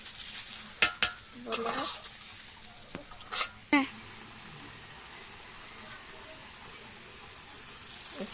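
Pumpkin curry in a pan with ground cardamom, garam masala and roasted cumin being stirred. A handful of distinct spoon scrapes and clanks come in the first four seconds over a faint, steady sizzle that continues alone afterward.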